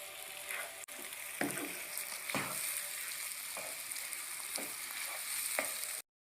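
Chicken frying with spices in a pan, a steady close sizzle running throughout with occasional stirring scrapes and clinks, no talking.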